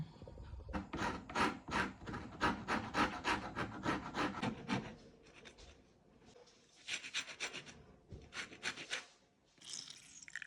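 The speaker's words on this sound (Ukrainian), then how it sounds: "тепер натираємо цедру одного апельсина" Orange peel is rubbed against a grater in quick rasping bursts, a run of rhythmic strokes, a pause, then another short series, close and fairly quiet with no talking.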